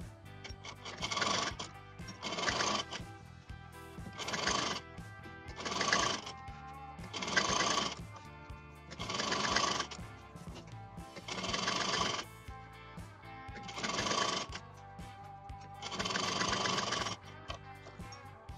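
A sewing machine stitches down the sides of a designer sleeve with piping, running in about nine separate bursts of steady whirring with short pauses between them, close and clear with no talk.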